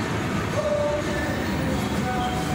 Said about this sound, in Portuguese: Vamos pegar o metrô aqui